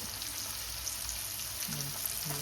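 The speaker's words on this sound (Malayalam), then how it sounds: "പാത്രം ചൂടായ ഉടനെ നെയ്യ് ഒഴിക്കുക" Ghee hitting a hot pan for chicken biriyani rice gives a steady, even sizzle throughout, with no talking over it.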